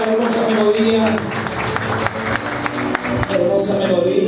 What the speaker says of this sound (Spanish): Bienvenidos, aplausos.